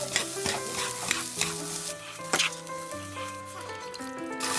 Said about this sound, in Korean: 자색 양배추는 기름 살짝, 소금 살짝을 넣고 볶아주세요.